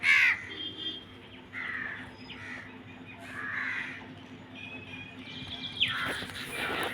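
Several crows caw from nearby trees, with other birds calling and chirping around them in short repeated bursts over a steady outdoor background.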